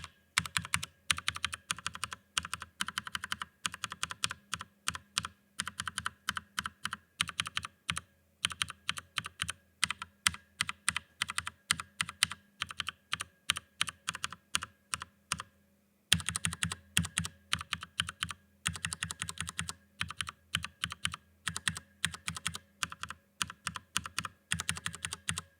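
Steady, soft typing on a mechanical keyboard with MX Brown switches fully lubed with Krytox grease, a dense run of muted keystroke clacks in bursts with one brief pause, close and with no talk.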